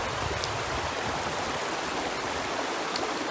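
River water flows in a continuous rushing hiss, steady and fairly loud with no pauses and no voices.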